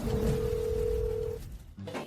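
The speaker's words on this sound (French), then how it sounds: "Le téléphone ne répond pas." A telephone rings out with no answer, giving a steady held electronic tone near the listener for over a second. A low hum lies underneath, and the tone cuts off before a short pause.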